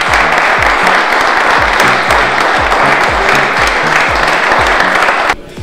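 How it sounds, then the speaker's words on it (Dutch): A crowd gives sustained, loud applause at the kick-off of the Kortrijk Spurs club, dense clapping that carries for about five seconds before it abruptly drops away. "Applaus!"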